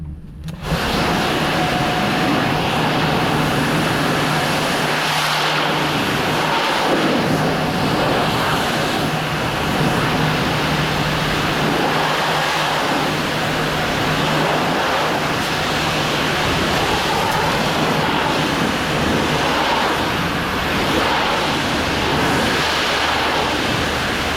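A pressure-washer spray rinses the end of a dirty vinyl fence, a loud, steady, close hiss of water blasting the panels that runs without a break throughout.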